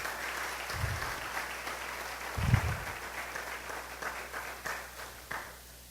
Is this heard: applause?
yes